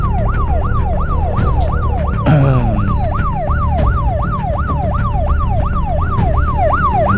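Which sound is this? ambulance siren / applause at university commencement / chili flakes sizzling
ambulance siren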